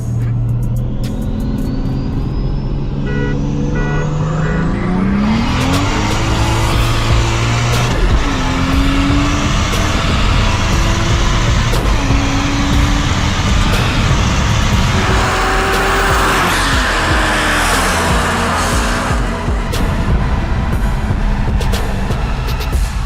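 A Toyota Mark II JZX90 engine drones steadily up close, revving and shifting pitch as the car turns and slows, with rumbling road noise throughout.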